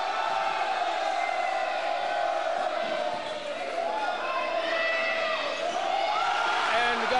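A high school volleyball crowd cheers loudly and steadily in a gym. A continuous roar of voices and whoops swells and holds throughout.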